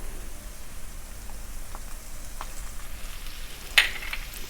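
Crushed garlic, chilies and curry leaves sizzling in hot oil for Mumbai vada pav, a steady soft crackling hiss with a few faint pops and one brighter spit near the end.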